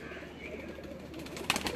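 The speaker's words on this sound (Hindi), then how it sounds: "ये गोल्डन कबूतर है, उस्ताद ताहिर शरीफ का ये कबूतर है" A golden pigeon on a rooftop coos in a low, soft murmur over steady background noise, with brief fluttering or scuffling near the end.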